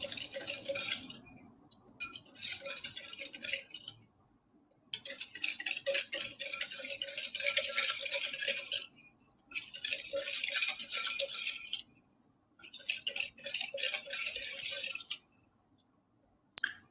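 A utensil scrapes and clinks against a bowl as brownie batter with vanilla essence is mixed. The rattling strokes come in steady bursts of several seconds, split by brief pauses.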